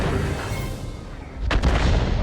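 A single deep tank-gun blast in a video game booms over a rumbling engine drone, sudden and heavy, then the low rumble continues.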